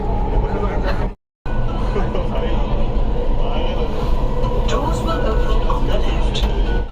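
A Mumbai metro train ride carries a steady, dense low rumble of wheels and motor throughout, with one brief dropout, while passengers chatter continuously in the background.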